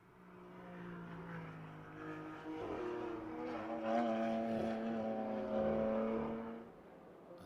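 GT4 race cars, including a BMW, lapping Road America during qualifying; a single engine note rises and shifts through gears as it passes at moderate distance, fairly loud and alone without talk.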